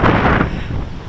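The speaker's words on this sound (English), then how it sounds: "Sorry about the wind." Strong wind buffets the microphone outdoors on a very windy day, a loud, rough, continuous rush with no other clear sounds and no voices.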